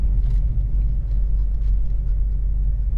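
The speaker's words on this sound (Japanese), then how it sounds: "ロードノイズがねちょっと大きめになる" Road noise inside a Honda Civic Type R FD2 on aftermarket wheels and firmly set TEIN coilovers while driving: a constant deep rumble and drone of tyres and engine, fairly loud, with no talking.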